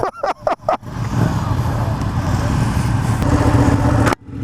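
A 2016 Ducati 959 Panigale motorcycle's engine drones steadily and loudly while riding, preceded by a few short sharp bursts and ending abruptly.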